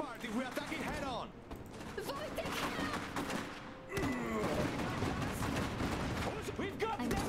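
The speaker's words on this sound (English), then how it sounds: "A heavy MG. Careful. It will tear us apart if we attack it head on." Heavy machine gun fire rattles in the video game Iron Harvest, with dense bursts of gunfire and impacts mixed under the game's voice chatter, a little louder in the second half.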